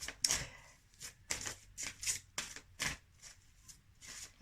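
Tarot-style cards shuffled for a reading, a series of close, crisp riffling bursts in an irregular rhythm, about eight flicks with brief pauses between, no voice.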